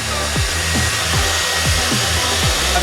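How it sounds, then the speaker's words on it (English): A hair dryer blows hot air steadily onto vinyl wrap being softened and stretched over the dashboard of a Mk2 Focus ST, with a loud, constant close whoosh and a repeating low flutter. "to actually have the hairdryer kept on"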